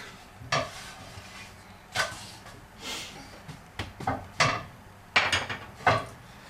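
Flatbread cooks in a pan, with intermittent scraping and tapping against the pan under a faint sizzle, coming in irregular bursts and close by, with no talk.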